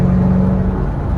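A 650 hp Chevrolet Camaro ZL1 1LE engine rumbles loud and close from inside the car, a deep, steady low drone during driving.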